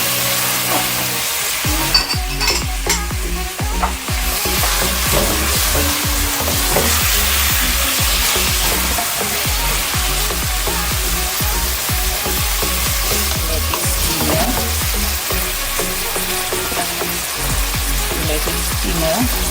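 A pot of sancoche with green papaya and carrot cooks with a loud, continuous sizzle and bubbling. Irregular clanks and scrapes of stirring sound close by throughout, and no one speaks.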